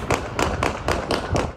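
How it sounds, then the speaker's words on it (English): Gunfire during a police takedown on Highway 281 after a crash, heard as five sharp pops spaced roughly a quarter second apart, loud and evenly paced. "And then all of a sudden, like, just gunshots, like pop"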